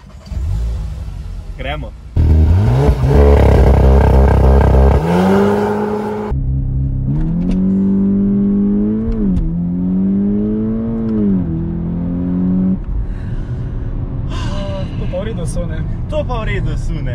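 Volkswagen T-Roc R with its 2.0 TSI turbo petrol engine, loud and close, revving hard in a couple of rising sweeps, with a brief pause between bursts, then settling into a throbbing hum; a voice speaks briefly at the start.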